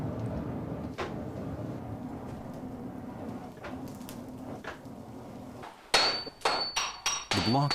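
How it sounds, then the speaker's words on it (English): Hammering a steel block during Japanese sword forging, first soft dull taps under a low background rumble, then a loud rapid burst of ringing metallic strikes near the end, several blows in quick succession. "The block is stretched by hammering it to double its original length before folding."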